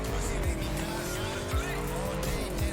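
A motorcycle ridden in Cyberpunk 2077, a steady droning engine note with a whining tone, running continuously and fairly close, with brief thumps recurring every second or so.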